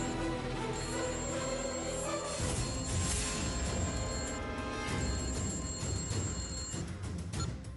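Telephone ringing, left behind in an empty room, a repeating electronic ring tone that carries on steadily over a dense musical score with no speech.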